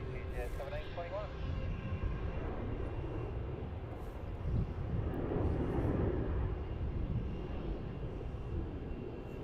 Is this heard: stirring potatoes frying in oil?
no